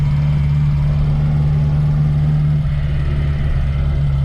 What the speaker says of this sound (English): It's quite noisy here. We haven't got any of the covers on, the engine covers